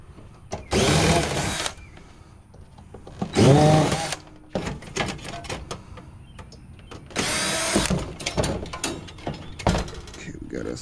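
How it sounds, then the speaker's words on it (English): Power tool bursts removing screws from the back panel of an expensive piece of lab equipment being scrapped, three loud whirring runs of a few seconds each separated by clanks and handling noise, close up. "when in doubt, just start taking off all the screws"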